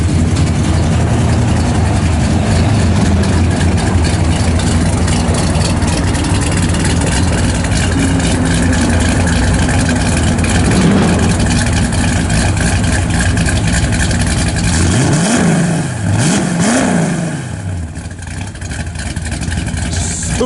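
A 1963 Chevrolet Nova II SS with factory ram horn exhaust manifolds and dual exhaust idles loudly and steadily, with a few quick revs rising and falling near the end.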